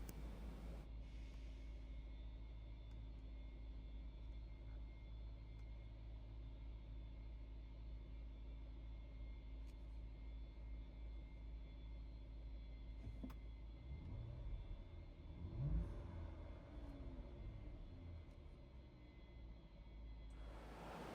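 A Range Rover engine idling with a steady low rumble throughout, heard from a distance and fairly quiet, with a brief louder disturbance near the end.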